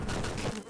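Buzzing insects swarm close in the Half-Life: Opposing Force game, a dense steady drone lasting under a second with no talking.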